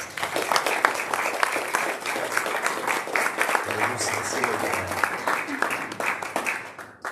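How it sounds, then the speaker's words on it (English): Audience applause for mayoral candidates at a business leaders' forum: steady dense clapping from a room of people throughout, with a voice talking over it partway. "let's give our candidates a round of applause"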